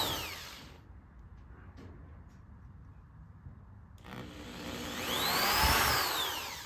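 Power drill run forwards through a hole in a tour pack rack on a 2009 Harley-Davidson Police Special, a faint whirring motor that rises into a louder grinding whine near the end, close by with no talking.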